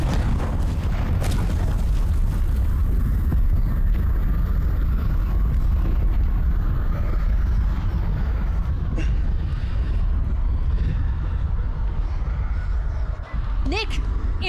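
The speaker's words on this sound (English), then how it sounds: "Nick was in the explosion" A loud explosion in House of Ashes gives way to a long rumbling roar that gradually fades, with a few sharp pops and crackles near the end.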